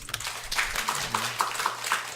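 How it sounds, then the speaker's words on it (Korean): A church congregation applauds during a morning service, a fairly even run of many hands clapping together in a steady patter. "박수 한번 칩시다"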